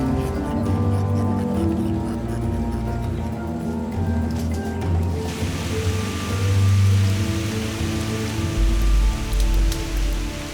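Heavy rain pours steadily in a chimpanzee habitat, a loud continuous hiss of drops on foliage and surfaces that thickens midway, with low rumbles underneath.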